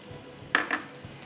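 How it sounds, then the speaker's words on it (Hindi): Chopped onions frying in oil, a soft sizzle with a couple of brief stirring scrapes near the middle, quiet and close in a kitchen. "बेहतरीन तेल, चॉप्ड अनियन। इसको हमें ट्रांसपेरेंट करना है।"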